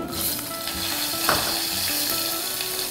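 Mustard seeds spluttering in hot oil with green chillies, a continuous close sizzle with one brief louder crackling burst midway and no talking.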